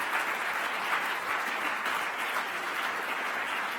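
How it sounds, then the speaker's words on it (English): An audience at a 2017 general election hustings applauds the panel participants, a steady, fairly quiet round of clapping sustained throughout without voices. "perhaps to give a round of applause to all our participants, Dr. Thérèse Coffey, Baroness Parminter"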